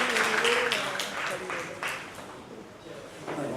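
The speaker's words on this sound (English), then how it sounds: "Can we give them a round of applause," Applause at a book launch, clapping under speech that thins out after the first couple of seconds while talking continues.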